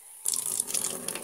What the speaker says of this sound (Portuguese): A água ainda tá escorrendo, mas eu ainda vou molhar mais um pouquinho.